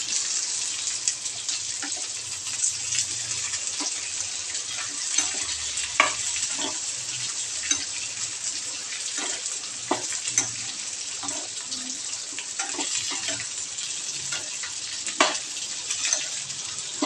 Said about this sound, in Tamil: பூண்டு, இந்த தக்காளி, இந்த வெங்காயத்தை ஒரு நல்ல ஒரு லைட்டு ப்ரௌன் ஷேட் வரைக்கும் ஃப்ரை பண்ணிக்கலாம்